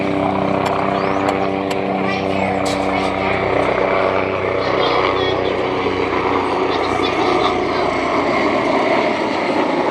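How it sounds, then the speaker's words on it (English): A Beechcraft airplane landing at an airport, a loud, steady propeller drone close by, with wind or traffic rumble and a voice talking over it. "here comes a Beechcraft landing"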